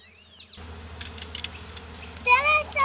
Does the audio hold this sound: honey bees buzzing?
yes